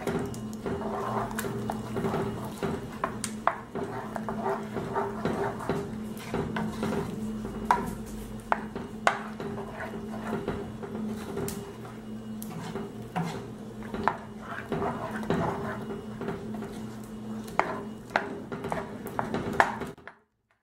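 Cut peaches are stirred into condensed milk cream in a cake pan, giving a steady run of soft clinks and scrapes of a utensil against the dish, close and fairly quiet, continuing until an abrupt stop.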